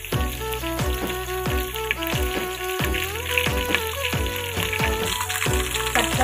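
Curry leaves sizzle and crackle in hot oil for a Telugu chukkakura curry, a dense continuous frying hiss with sharp popping spits throughout, close and loud with no talk.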